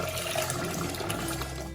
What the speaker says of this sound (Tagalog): Tapon ang tubig.